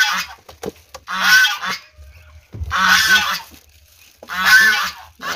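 A goose honks loudly and close by in three separate harsh bursts, with short quiet gaps and faint rustling between them.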